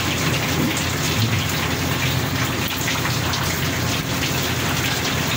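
Steady, dense rain pours down continuously during a fishing outing in Zamboanga City, a loud, even hiss with no voices over it.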